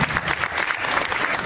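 People at a Miss Excellence Oise pageant gala applaud the sound technician. The brief burst of clapping is dense and continuous, lasting only a second and a half.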